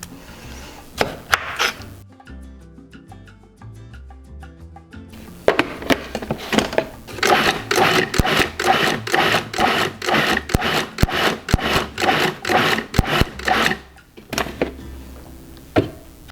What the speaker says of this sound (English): So now just keep adding your tomatoes until you've pulsed everything together.